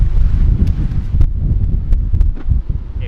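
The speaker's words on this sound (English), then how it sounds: "It's really strong wind." Strong wind buffeting under a rock cave on a beach beside a lit barbecue fire, a continuous loud low roar with gusty fluctuations and occasional sharp crackles or knocks.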